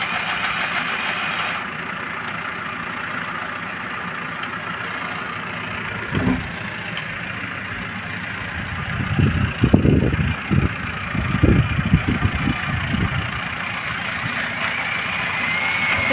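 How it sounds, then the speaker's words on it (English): A tractor engine idles steadily outside in the background, then rumbles louder in uneven bursts as it revs nearby, with no voices. "You can probably hear the tractor."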